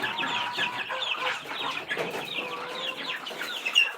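Chickens cluck busily and continuously at evening feeding time, several birds overlapping in a noisy, excited chorus close at hand.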